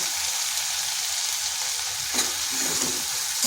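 Young jackfruit sautéing in oil in a wok, a constant close sizzle and crackle at a steady loud level, with a couple of soft scraping stirs near the end and no voices.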